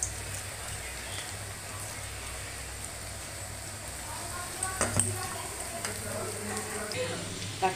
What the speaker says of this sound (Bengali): দেখো আরও কিছুটা ভাজছি কড়াতে